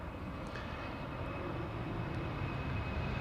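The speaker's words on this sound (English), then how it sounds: "This is KLM flight 987 to London City." A KLM airliner departing Amsterdam Schiphol Airport on a sunny day gives a steady, continuous engine roar at moderate distance, unbroken throughout with no voices.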